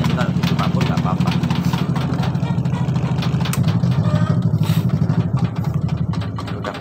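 The drum of a Samsung Fuzzy top-loading washing machine spins with its automatic control disconnected, giving a loud, steady low motor hum with a rapid pulsing flutter. Someone talks over the sound.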